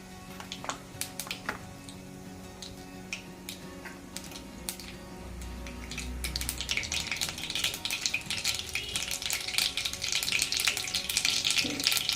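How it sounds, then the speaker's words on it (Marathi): Mustard seeds crackle in hot oil in a kadhai, sparse pops at first that build into a dense, louder crackling and sizzling toward the end. "मोरी मस्त कडकडायला लागलेली"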